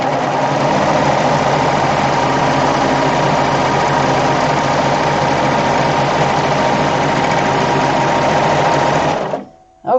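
Serger sewing a decorative wave stitch with red and blue thread along a fabric edge, a loud, steady rapid mechanical whir running continuously for about nine seconds before stopping abruptly.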